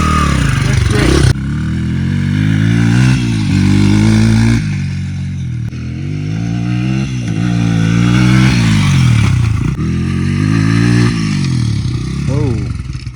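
A modified Honda CRF 100 dirt bike engine revs and pulls hard under acceleration, a loud, continuous mid-pitched drone rising and falling through gear changes up close, with voices talking over it.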